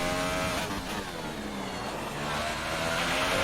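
Formula 1 car engine at Spa in a racing video game, a continuous high engine whine that rises and falls through a corner, close and steady.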